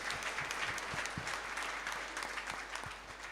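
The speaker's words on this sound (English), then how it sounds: "So let us give them also a big round of applause." A congregation claps during an Easter Vigil Holy Mass, a brief burst of scattered, fairly distant applause that stays even before tapering slightly at the end.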